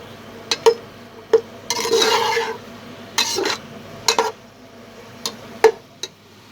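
A spoon stirs potato, spinach and onion in a pan, making sharp metallic clinks and a few longer scraping strokes at an irregular pace, close by.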